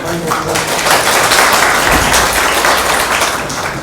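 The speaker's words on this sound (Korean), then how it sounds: "박수 부탁드립니다." Audience applause at a Korean art seminar round table, a steady dense wash of clapping lasting several seconds, loud and close with some voices mixed in.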